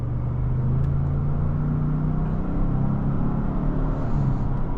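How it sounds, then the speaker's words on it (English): A 2025 Lincoln Navigator L Black Label with a V6 engine picking up speed, a steady low rumble and drone heard from inside the cabin, building slightly with road noise and no talk. "The car picks up speed pretty quickly."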